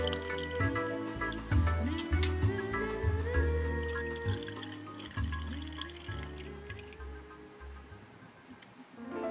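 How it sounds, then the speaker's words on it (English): Hydraulic lifter parts slosh and splash in a bath of Simple Green degreaser, giving soft, close liquid pouring and squishing sounds that fade gradually to quieter dripping. "I like to first soak the parts in simple green or the degreaser of your choosing."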